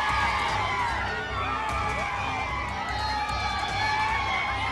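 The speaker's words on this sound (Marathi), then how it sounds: "बारामतीमधला हा जल्लोष" Party workers in Baramati celebrating Ajit Pawar faction wins in gram panchayat election results: a steady, dense crowd roar of cheering, whooping and shouting that holds throughout, with voices mixed in the din.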